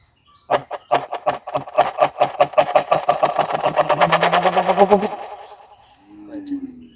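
A voice imitates a machine engine starting after it stalled. Sputtering pulses speed up into a rapid, steady chug, then cut off, and a short low hum follows.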